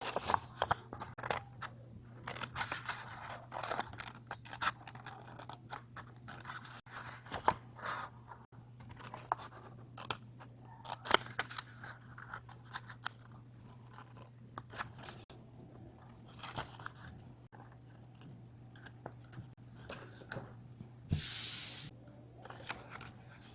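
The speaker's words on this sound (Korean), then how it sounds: "이 선을 따라 가위로 자르면서 연필선을 따라 가위로 잘라줍니다" Scissors cutting paper along a pencil line for a paper craft, soft crisp snips and crunchy slicing in irregular bursts with pauses between, close and quiet over a low steady background hum.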